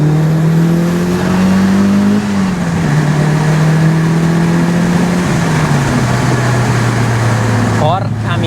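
A Mitsubishi Lancer Evolution VI JDM fitted with a bigger turbo pulls hard from inside the cabin, its engine tone climbing in steps as it accelerates through gear changes, a loud steady drone with a voice talking over it.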